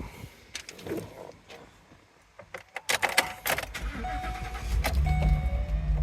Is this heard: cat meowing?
no